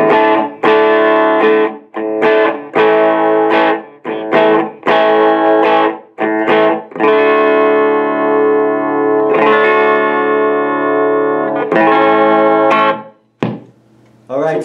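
A bright, distorted electric guitar plays strummed chords through a Krank Rev Jr amp with the treble turned up, each chord ringing out in a rhythmic pattern with short gaps.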